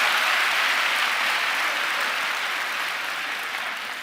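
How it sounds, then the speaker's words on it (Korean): A crowd at a church prayer meeting claps in sustained, dense applause that stays loud and gradually tapers off. "박수 한번 주세요."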